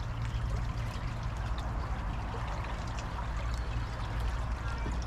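Columbia River water near Chelan, flowing close to a campground: a continuous rushing and trickling wash over a low, steady rumble in the background.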